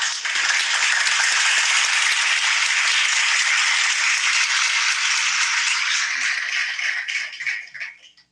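Canned applause from an audience at a university industrial design senior show presentation, a bright, hissy wash of clapping that stays steady for several seconds, then thins and fades out.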